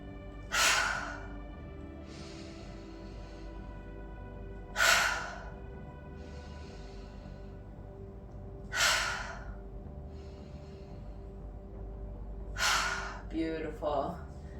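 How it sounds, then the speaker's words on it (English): Deep breaths during a heart-opening yoga stretch session: four slow, loud inhale-exhale cycles spaced about four seconds apart, each a strong airy gasp followed by a softer sigh, close to the microphone with no talking. "when we exhale, we're going to let it all out in one breath"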